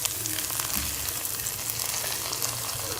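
Fried onions for a tempering sizzle over chicken gushtaba, a steady, close crackle and hiss of hot oil that stays even throughout.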